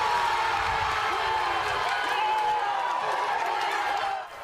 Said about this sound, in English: The Croatia club taking cheering to the next level.